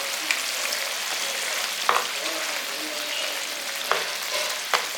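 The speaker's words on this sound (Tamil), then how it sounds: "தக்காளி நல்லா சுண்டி வரட்டும்." Tomato masala fries in a pan for a Tamil brinjal kuzhambu with a steady, loud, hissing sizzle, broken by a few sharp clicks of stirring.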